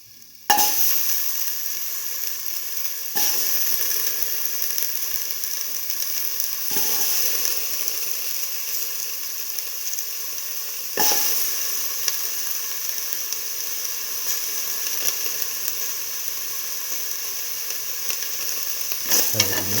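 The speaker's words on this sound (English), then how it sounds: "Put in the potato pieces." Potato pieces sizzle and fry in a pot for a split mung bean stew, a steady close hiss of hot oil broken by several sharp scrapes and clatters as the pieces are stirred.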